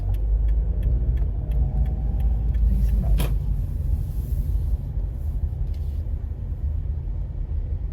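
Car traffic heard from inside a car stuck in a jam, a steady low rumble with faint repeated ticking and a brief sharp click near the middle, no talking.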